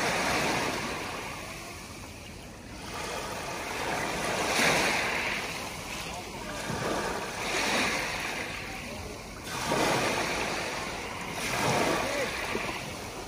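Small sea waves wash ashore on a beach at Karaburun near Izmir, several soft surges rising and falling in a slow rhythm, with someone talking over them.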